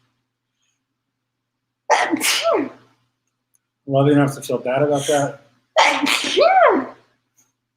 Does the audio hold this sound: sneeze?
yes